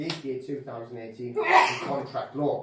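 A single sharp sneeze bursts out midway through a man's speech at a conference, with his talking around it.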